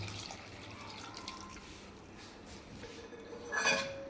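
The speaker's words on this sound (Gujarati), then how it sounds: "હવે આપણે આની અંદર પાણી નાખીશું." Water is poured into a pot of peas and potatoes being readied for boiling, a faint, fairly steady splash and trickle with a brief louder gush near the end.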